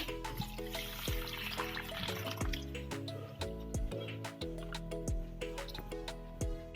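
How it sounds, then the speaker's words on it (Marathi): Moong dal being washed with water in a large bowl, with repeated drips and splashes of water and a faint trickling in between, near and clear with no talk. "ती आता आपण अशा मोठ्या बाउलमध्ये टाकून घेऊ आणि स्वच्छ धुवून घेऊ"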